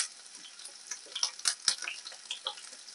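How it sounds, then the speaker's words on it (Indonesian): Chopped shallots and garlic sautéing in a pan, a light crackling sizzle with scattered stirring clicks and scrapes, close and fairly quiet, with no talk. "kemudian saya tumis bawang merah"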